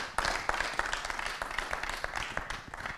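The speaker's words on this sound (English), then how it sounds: "Thank you, your applause." A crowd claps together in a dense, steady applause that stays fairly loud and close for the whole stretch.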